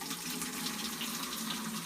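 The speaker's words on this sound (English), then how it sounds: "we're going to take our grain soup here And we're going to pour it into" Thick, gooey grain mash for homebrew sparging pours into a strainer in a cooler with a steady, full splashing rush that runs unbroken close to the mic, with no talking.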